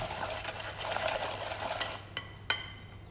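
Chocolate chip cookie dough is mixed in a bowl with wet, rapid stirring and scraping for about two seconds, then slows to a couple of isolated spoon knocks, close and moderately quiet.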